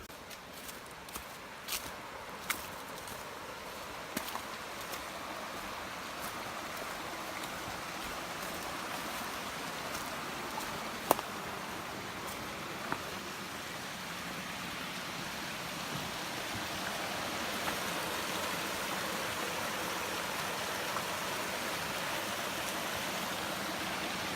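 A stream runs beside a hiking trail on the Foothills Trail, a steady broadband wash of flowing water throughout with a few soft scattered clicks and footfall-like knocks over it, no talking.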